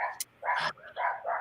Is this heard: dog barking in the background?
yes